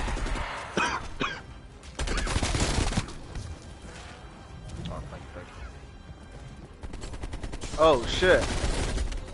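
Gunfire bursts from Call of Duty: Black Ops Cold War Zombies on the Outbreak map, loud rattling volleys coming in several short clusters, with players' voices talking and exclaiming between and over the shots.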